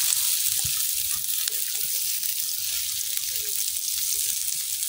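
Small shrimp fry in hot oil in a wok, a steady, dense sizzle that hisses continuously and evenly without pause, with faint low clinks underneath and no talking.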